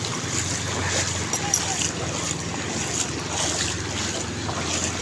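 A boat moves across open water during Typhoon Crising, with engine drone, splashing waves and heavy wind buffeting the microphone, while voices talk faintly underneath.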